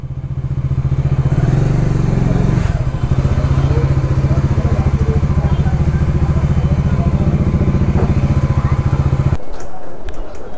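Motorcycle idling and rumbling up close as it is parked near Tarakeswar Temple, a steady loud engine throb with clattering, a voice talking briefly over it, and the engine cutting off near the end.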